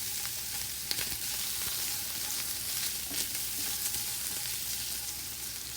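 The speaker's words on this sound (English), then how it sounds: "I'm going to add 1 tablespoon of the butter." A tablespoon of butter melting with garlic in a pan over lowered heat, hissing in a steady, close sizzle with small crackles and a light stir, no voices over it.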